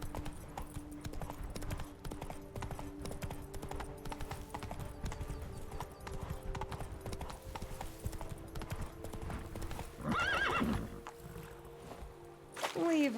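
Roach the horse in The Witcher 3: Blood and Wine trots with a steady, rhythmic clip-clop of hooves throughout, moderately close, with a short whinny-like call near the end and faint talk.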